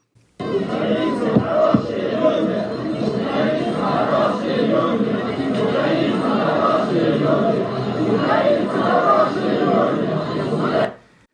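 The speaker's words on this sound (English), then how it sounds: "this is the crowd queued up to see Navalny's grave, and they were chanting some things" Crowd queued at Navalny's grave chants together in a loud, sustained mass of voices, rising and falling for about ten seconds before stopping abruptly.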